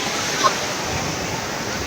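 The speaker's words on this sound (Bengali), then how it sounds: "প্রচুর ঢেউ সমুদ্রেতে আপনারা দেখতে পাচ্ছেন" Sea waves surge and wash onto the shore at Kuakata beach in Bangladesh, a steady broadband roar filling the whole stretch with no clear single break, close and fairly loud.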